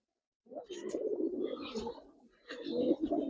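Racer pigeons give close, soft throaty coos in two bursts, low and rumbling, with a short pause between them.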